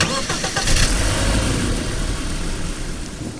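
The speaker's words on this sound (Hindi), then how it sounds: "इंजन स्टार्ट हो गया।" A bus engine cranking and catching after the key is turned, a rough stuttering start that settles into a loud, steady running rumble, heard close with no talk.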